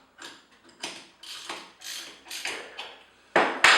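Collet nut on a Festool OF 2200 router being tightened with a wrench: a series of about eight crisp ratcheting metallic clicks in an uneven rhythm, close and fairly quiet, ending in two sharper louder snaps.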